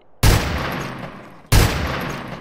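Two heavy Desert Eagle pistol shots in a video game, each a sharp loud blast followed by a long decaying echo, spaced a little over a second apart with no talking.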